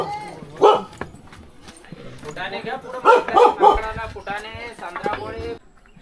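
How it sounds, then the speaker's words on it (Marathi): On the Brahmagiri trek trail near Nashik, a dog barks in a few loud bursts, one early and a cluster near the middle, while a voice talks nearby between and over them. "कुत्र्याला काय झालं काय माहिती, भुकतोय."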